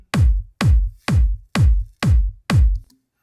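Solo kick drum sample heard dry, without EQ or compression: six evenly spaced, booming low thumps with a short click at each attack and a quick decay, roughly two per second, loud and isolated.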